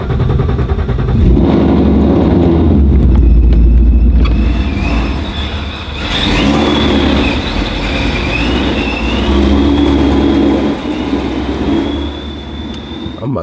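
A Ford Mustang V8 with a Procharger supercharger cold-starts and idles loudly and close, a dense rumbling roar with a high supercharger whine that holds steady for over ten seconds.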